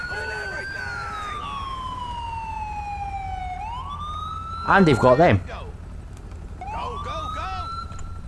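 A police siren in GTA 5 wails in long falling and rising sweeps, then bursts into a rapid yelping warble, with someone talking briefly over it.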